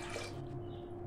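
Water pours into a pot of chana dal before boiling, a brief steady splashing and trickle heard close and fairly quiet.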